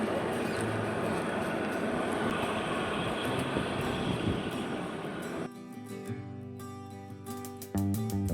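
Kalka–Shimla toy train rolling along, a steady dense rumble and rattle of wheels and carriages, then shifting to a quieter, tonal hum with clanks near the end; no talking.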